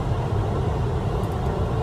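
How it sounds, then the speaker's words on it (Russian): Steady broadband whoosh of a 2019 Toyota Land Cruiser Prado heater fan blowing hard onto the windshield in winter, a constant close airflow with engine hum beneath and no talking. "Отсюда начинает очень сильно дуть"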